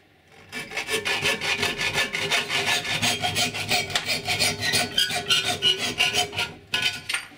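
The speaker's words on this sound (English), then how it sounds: "I'm now going to brutalize them with a hacksaw." A hacksaw cuts through copper sheet in fast, regular back-and-forth strokes, loud and close, with a bright rasping edge, pausing briefly near the end.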